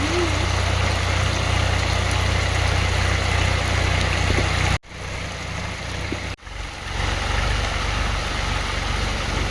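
A tractor engine runs steadily while ploughing a field in heavy rain, a loud continuous low rumble with two abrupt brief dropouts midway.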